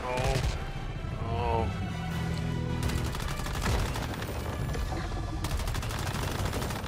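Sustained automatic gunfire from a fast gunner build fighting the Forsaken Giant boss in Once Human, a continuous rattling barrage with booming impacts and game music layered throughout.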